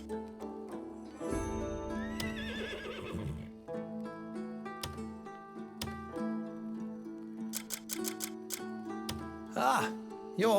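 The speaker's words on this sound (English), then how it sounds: "such a fine horse is a rare sight" A horse in the video game Crimson Desert neighs with long, loud, wavering whinnies, accompanied by snorts and a few hoof clops in a stable setting.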